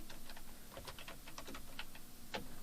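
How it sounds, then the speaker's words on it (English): Rapid, light clicking of a computer keyboard as someone types a stretch of text, quiet and close, with irregular bursts of keystrokes and a faint background hum. "You could start by typing"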